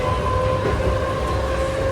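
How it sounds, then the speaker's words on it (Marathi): A Belapur–Uran local commuter train rolls along, heard from inside the carriage as a steady, loud rumble with a sustained mechanical hum and no pauses. "फायनली आपल्या आता बेलापूरच्या ट्रेनमध्ये आपण बसलेलो आहे आणि बेलापूरवरनं चाललो आहे उरणला."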